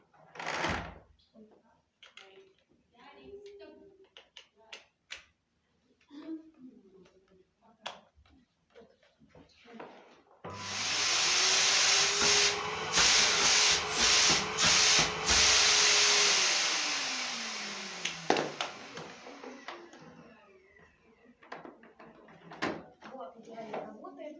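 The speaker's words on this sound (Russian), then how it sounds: "Вот, идеально работает пылесос." A 1600-watt Samsung SC4140 vacuum cleaner is switched on, roars loudly with a steady motor whine for several seconds, then winds down; clicks and handling noises come before and after, and a person talks during them.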